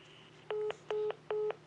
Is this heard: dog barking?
no